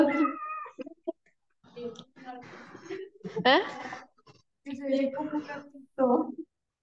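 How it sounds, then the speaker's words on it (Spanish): A small adopted kitten living in a museum meows several times, close and soft, between bursts of nearby conversation. "Sí, es el gatito del museo."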